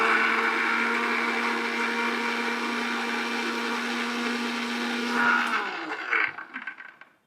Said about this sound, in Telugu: మిక్సీ